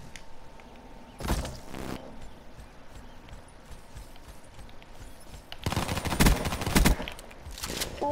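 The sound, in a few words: pistol gunfire in the video game Call of Duty: Black Ops III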